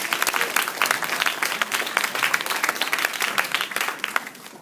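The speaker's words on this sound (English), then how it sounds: "Give him a round of applause." Applause from the audience at a cultural celebration, a steady dense wash of many hands clapping at once, fairly loud and sustained without pause.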